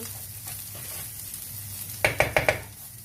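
Rice and minced meat cooking with butter in a pan, a low continuous sizzle followed by four quick metallic scrapes of a utensil against the pan as it is stirred.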